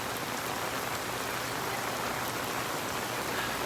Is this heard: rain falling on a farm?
yes